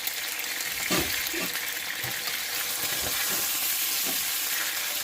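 Cod fillets sear in olive oil in a pan, giving a steady close sizzle broken by a few soft scrapes and knocks from turning the fish, with no talking.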